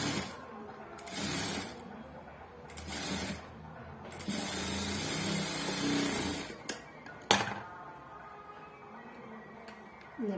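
A sewing machine stitches a blouse in short bursts of fast mechanical whirring, with pauses between runs and a few sharp clicks near the end.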